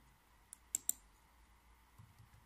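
A computer mouse is clicked several times, including a quick double-click in a quiet room, sharp tiny taps followed by faint low rustling.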